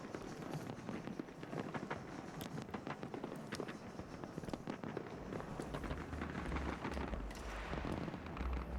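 Fireworks go off outdoors in Nottingham on New Year's Eve, heard from indoors as faint, distant crackles and soft thumps scattered over a steady low rumble.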